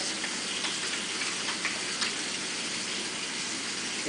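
Running tap water splashes steadily as hands are washed with soap and rubbed together, a continuous close gushing hiss without pause.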